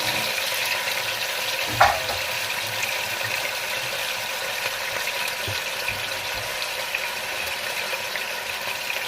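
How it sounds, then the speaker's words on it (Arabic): Onions sauté in ghee in a pan, giving a steady, even sizzle and crackle close by, with a single brief clink of a utensil early on and no talk. "حطيت معلقتين سمنه ورحت نازله كده بالتشويحه كله في قلب بعض"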